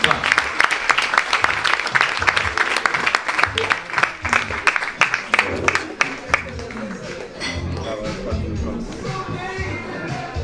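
An audience at a comedy show claps in a dense burst of applause that gradually thins out, with someone talking over it.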